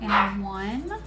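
A pet dog barks and yelps close by in a home, a short burst rising over someone talking in the foreground.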